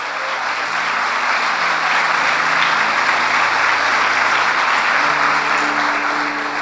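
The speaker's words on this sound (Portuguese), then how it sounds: "em nome de Jesus, dê um aplauso a Ele" Loud, sustained applause from a church congregation at a consecration service, with clapping and a murmur of crowd noise and a faint held musical tone underneath, steady from start to finish.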